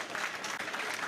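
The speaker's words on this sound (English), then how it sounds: "Please give him another round of applause, please." An audience at a presidential foundation-stone ceremony for a five-star hotel in the Gambia applauds after a speech, a short burst of thick, even clapping heard at moderate distance.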